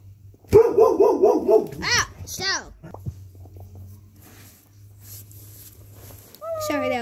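A dog barks several times in quick succession nearby, loud and sharp, followed by a few softer yelps, with children's voices and game sounds from a Minecraft session in the background.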